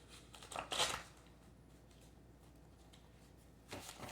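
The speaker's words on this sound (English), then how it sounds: "Let me just shuffle this way real quick." Two short bursts of tarot card shuffling, a papery riffle near the start and another at the end, separated by quiet room tone.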